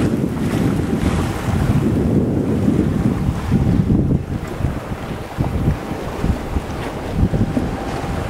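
Strong wind on a boat at sea returning from Victoria across the Salish Sea, a steady loud roar of gusts mixed with waves and hull noise, continuous with no voices.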